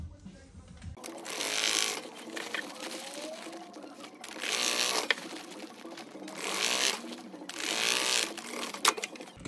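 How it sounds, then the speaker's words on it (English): A sewing machine stitches fabric seams together for a DIY bikepacking compression bag, running in four loud close bursts separated by quieter handling sounds, with no one speaking. "And then stitch them together."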